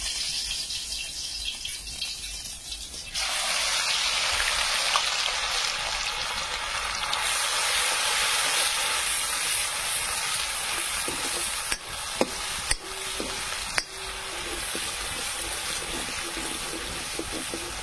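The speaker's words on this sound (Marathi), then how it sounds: "तर आपलं तेल तापलेलं आहे. त्याच्यात लसूण टाकून घेते मी." Garlic dropped into hot oil for a crab curry bursts into a loud, steady sizzle that carries on close by, with a few sharp clinks of a utensil partway through.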